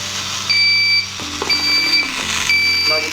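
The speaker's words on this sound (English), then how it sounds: "then bike will stop with beep." Two high electronic beep tones from a motorcycle's smart-helmet alarm, each held about half a second, sound over a steady low engine hum, with a change in the hum partway through.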